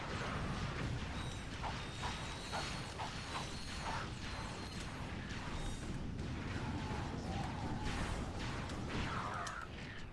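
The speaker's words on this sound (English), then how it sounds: "To attach the wrench to the bolt crank." A wrench turning a bolt crank in Ratchet & Clank 3, giving a continuous grinding, clicking mechanical ratchet sound with creaks, steady and dense throughout alongside game noise.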